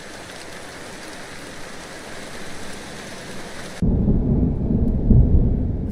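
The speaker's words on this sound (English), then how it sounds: "Thunder." Thunder and rain in Kerbal Space Program play a steady hiss of rainfall, then a sudden deep rolling rumble that breaks in near the end and stays loud and close until the clip ends.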